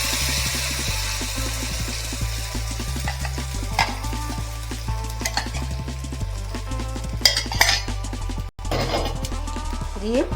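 Spinach paste with a bay leaf being stirred in hot oil in a pan, a steady close sizzle and frying crackle with scraping stir strokes throughout, plus a brief clatter near the end.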